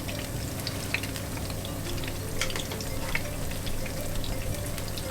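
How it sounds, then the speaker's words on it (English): Salmon fritters frying in a pan, a steady close sizzle and crackle of hot oil with small pops, no talking. "we're just going to let those fry off"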